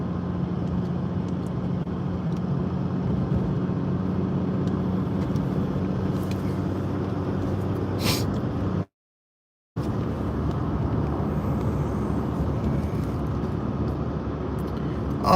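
Steady rumble of road traffic heard from inside a moving car, a broad continuous wash of engine and tyre noise with a brief dropout midway and no talk.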